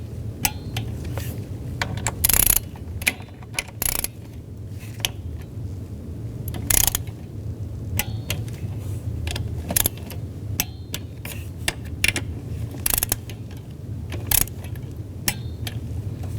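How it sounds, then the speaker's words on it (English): Torque wrench tightening spark plugs to 89 inch-pounds on a 2010-16 Buick Lacrosse, with scattered metallic clicks, clinks and ratcheting knocks at close range over a low background hum. "Now we're going to torque these to 89 inch-pounds."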